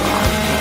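A saw cuts through a Twix chocolate bar in a short, loud, continuous burst of harsh grinding noise, very close, with no talk.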